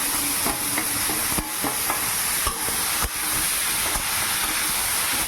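Shredded cabbage added to a hot pan with cumin, whole dried chillies, bay leaf and whole garam masala, crackling in a steady, loud, close sizzle and hiss with scattered pops and the scrape of stirring throughout.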